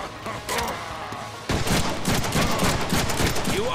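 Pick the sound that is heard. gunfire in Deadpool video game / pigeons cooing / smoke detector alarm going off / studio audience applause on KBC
gunfire in Deadpool video game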